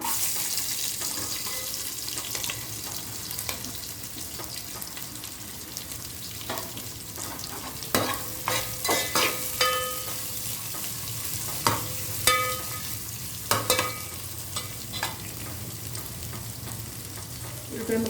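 Onion slices and green chillies fry in spices for jackfruit biryani, a constant hiss of hot oil broken by repeated scrapes and clinks of a stirring spoon against the pan.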